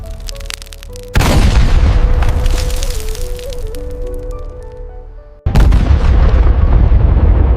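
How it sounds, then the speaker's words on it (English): Leopard 2 and Challenger 2 tanks fire their main guns, with two huge booming blasts, each followed by a long rumbling roar that slowly fades, loud and overwhelming. "This is Leopard 2 and Challenger 2 tanks firing."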